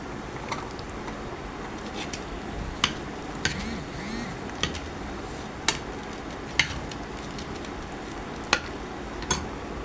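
Garlic sizzling in hot oil for a pickle while being stirred, a steady frying hiss broken by sharp clicks and taps from the spoon against the pan.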